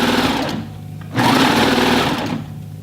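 A sewing machine stitches hoodie fabric in steady, loud motorized bursts, briefly slowing before running on again at full speed.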